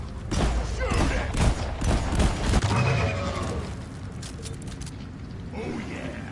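Video game gunfire, loud and rapid with sharp repeated cracks over a busy, noisy battle backdrop, thinning out toward the end.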